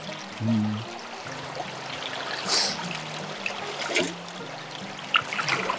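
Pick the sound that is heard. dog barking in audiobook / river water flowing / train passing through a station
river water flowing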